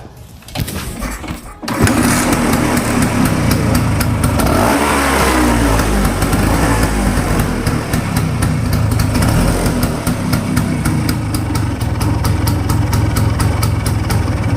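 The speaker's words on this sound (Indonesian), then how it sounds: "Oke, kita tes dulu ya Vespanya ya." Vespa scooter engine running on test with its engine cover opened, sounding somewhat weak and uneven: a close, loud, steady idling putter with a rapid rhythmic pulse lasting throughout after a brief start.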